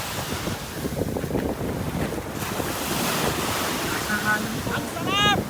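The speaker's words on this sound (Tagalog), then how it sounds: "Ang lakas ng alon! Lakas ng alon!" Strong ocean waves surge onto the shore at Campones Island, Zambales, with a steady roar of surf and wind buffeting the microphone, and brief faint voices and chirps near the end.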